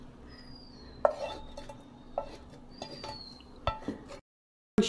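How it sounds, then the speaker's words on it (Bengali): Cooked chicken and fried potatoes are tipped into a pot of spice-fried rice, giving a few sharp metallic clanks and scrapes of a spoon against the pot over a low kitchen background hum, with no talking. "এখন আমি এটার মধ্যে আগে থেকে কষানো মুরগির মাংস আর আলু ভাজা দিয়ে দিলাম"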